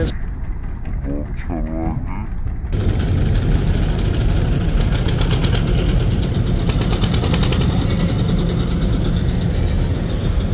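Trawler boat engine running beside the MV Pubali-12 passenger launch in Patuakhali: a steady, loud broadband diesel rumble fills the clip after a quieter opening with faint voices.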